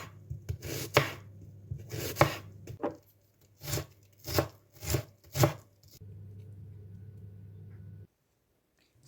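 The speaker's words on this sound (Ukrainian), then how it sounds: "Одну велику цибулину порізати дрібно" A knife chops a large onion on a board in about seven sharp, separate strikes at an uneven pace, over a low steady hum that then cuts out.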